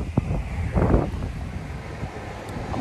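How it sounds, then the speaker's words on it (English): Wind buffets the microphone in low, rumbling gusts, steady and close, with no voices. "Windy out here"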